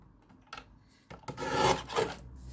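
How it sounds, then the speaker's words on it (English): A paper guillotine slices card in a straight line during a papercraft session, giving a short, soft scraping rasp after a couple of faint taps, close and quiet. "I always have to resort to the guillotine if I want something straight"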